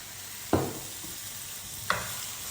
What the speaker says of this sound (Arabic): غندير البصيله هي الاولى تشحر ليا بسم الله، وغادي ندير واحد شويه ديال الزيت